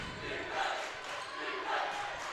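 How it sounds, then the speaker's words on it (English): Grafton fans in the stands at a girls basketball tournament quarterfinal raise a steady, loud crowd chant of noise from a modest gathering, sustained throughout with swelling peaks. "nice little crowd making a lot of noise here. Being that defensive chant"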